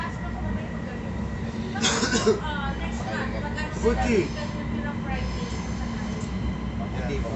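A train at a station in Saudi Arabia gives a steady low rumble and hum throughout, with a few squeals and clatters rising above it, while people talk nearby.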